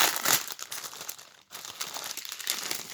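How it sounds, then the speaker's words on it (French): Small plastic bag of diamond painting beads being opened, its crinkling and crackling plastic close and fairly quiet, with a brief pause midway before the rustling resumes. "On va ouvrir notre petit sachet de diamants."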